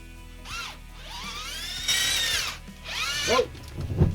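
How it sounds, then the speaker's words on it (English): A ground drill bores into soil while digging out a bunker, its motor whining in rising and falling bursts as it revs, loud and close with no talk over it. "At one point I started using this ground drill to make the digging a bit easier."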